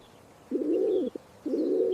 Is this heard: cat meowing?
no